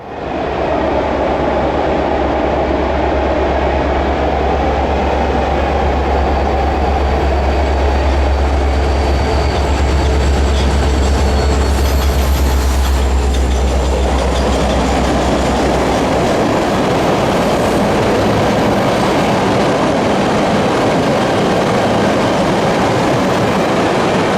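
A Montana Rail Link gas train rolls slowly past beside a river, a loud steady rumble of wheels and rail cars with faint clickety-clack that fades and thins toward the end, with no voices.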